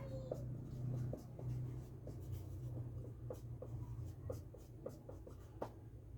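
Steady scratching of a pen or marker writing on a board or paper during a binary addition lesson, with short repeated strokes over a low background hum; no one speaks.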